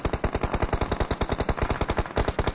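Automatic gunfire in a tournament video game match rattles in a rapid, loud, continuous burst of closely spaced shots, with a brief break near the end.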